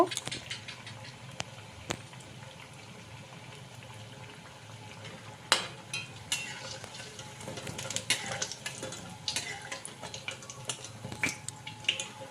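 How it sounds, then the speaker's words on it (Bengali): Mixed lentil fritters deep-frying in oil over a medium-low flame, a steady close bubbling sizzle running throughout with occasional sharper pops and spatters. "বড়াগুলো উল্টে পাল্টে ভেজে নিলাম"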